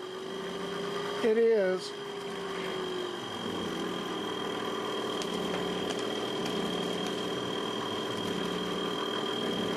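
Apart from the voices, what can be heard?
car engine idling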